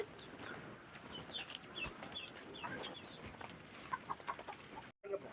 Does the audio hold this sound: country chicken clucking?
yes